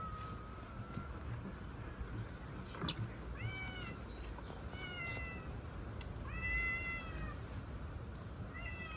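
A cat meows several times in a kitchen, a run of short rising calls after one longer cry, fairly close over a steady background hum, with no talk.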